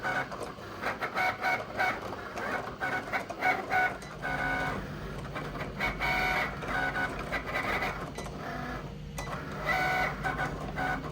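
A large-format printer laying down vinyl locomotive graphics for a 1-inch scale ATSF GP60M model, with repeated mechanical whirring passes, clicks and stepping motor chirps in uneven bursts, close by and with no voices.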